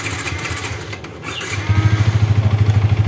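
A Yamaha Vixion motorcycle engine ticks over during radiator refilling, then settles into a loud, close, steady pulsing idle with a regular throbbing rhythm.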